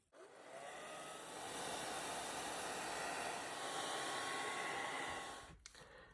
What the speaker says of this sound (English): I'm going to use my blow dryer.